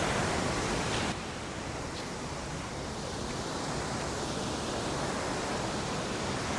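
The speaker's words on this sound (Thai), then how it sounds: "นี่น้ำตก บริเวณน้ำตก" A waterfall gives a constant broadband roar of rushing water, loud and close, steady for several seconds with nothing else heard.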